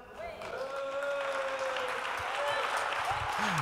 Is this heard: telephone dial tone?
no